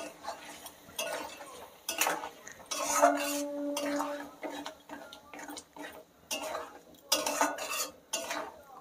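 Banana flower curry being stirred in a metal pan, sharp spoon scrapes and clinks in uneven bursts over a faint sizzle, close and fairly loud.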